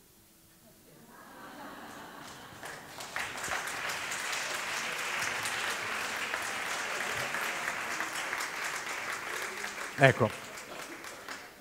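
Audience at a fundraising conference applauds, building from a quiet start into sustained, dense clapping that holds steady, with a brief louder burst near the end and a single spoken word at the outset.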